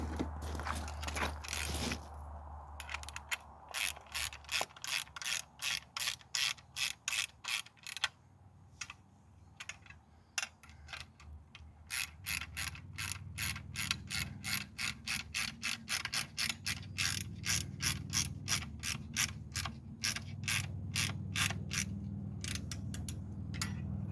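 Ratcheting clamp being tightened while building a rattan sword for medieval armored combat, a long run of rapid, close metallic clicks in steady bursts with brief pauses, continuing loud and dense toward the end.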